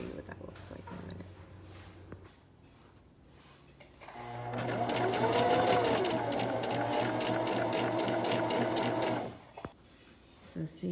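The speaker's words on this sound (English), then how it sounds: "the next step will be sewing just on the edges, so this is closed in" A sewing machine runs in one continuous burst for several seconds as it stitches the edges of a fabric medical mask with a pocket insert, with quieter handling sounds before and after.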